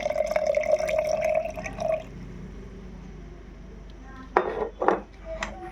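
Juice is poured into a glass holding chia seeds, a trickling liquid stream up close for about two seconds, followed by a few quiet clinks of glass and utensil.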